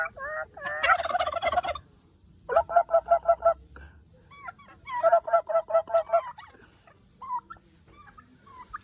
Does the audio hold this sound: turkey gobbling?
yes